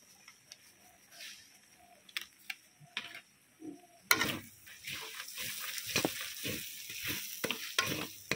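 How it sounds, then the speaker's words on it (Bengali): A prawn masala with turmeric and red chili powder is stirred and sautéed in a pan: quiet scattered scrapes and taps at first, then a louder sizzling hiss from midway with repeated spatula scrapes and clinks, no talking. "সব কিছু আবারও খুব ভালো করে কষিয়ে নিচ্ছি।"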